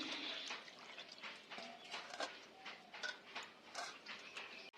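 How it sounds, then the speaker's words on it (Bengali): Water runs and splashes over freshly cut pumpkin leaves as they are rinsed, a soft, continuous trickle with light spattering, close and quiet. "আমি এবার আরেকবার জল দিয়ে ধুয়ে নিচ্ছি এর উপরে।"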